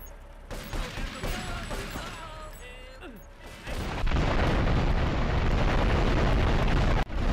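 A factory explodes in the GTA III video game, a loud sustained roaring blast with rumbling debris that builds and holds after a quieter stretch of game sounds and speech.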